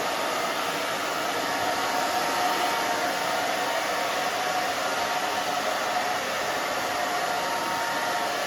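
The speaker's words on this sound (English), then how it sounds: "I'm just moving the blow dryer, moving my fingers back and forth." A blow dryer drying short pixie-cut hair runs continuously at close range, a loud, even whooshing roar with a faint high whine and no speech.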